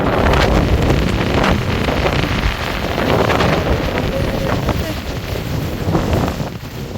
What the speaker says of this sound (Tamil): காத்தடியில் பயங்கர காத்து.